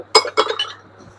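China mugs clink against each other several times in quick succession while being handled at a market shop in Dhaka New Market, bright and close, then fade into quiet.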